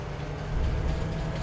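A train in the video game Farming Simulator 22 gives a steady low rumble with a slight swell partway through, heard alone and fairly loud over a short moment.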